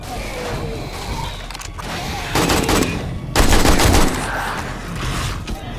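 Rapid bursts of machine gun fire in the survival game 7 Days To Die, with two loud sustained volleys in the middle of the clip, set among quieter game ambience.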